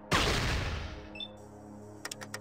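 A single loud 14mm pistol shot from the video game Fallout 1.5: Resurrection, a sharp blast with a decaying tail, followed by a few faint clicks.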